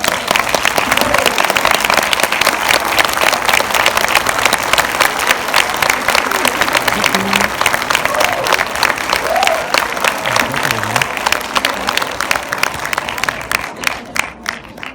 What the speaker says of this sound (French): Les applaudissements se sont arrêtés avant qu'on soit en bas de l'escalier.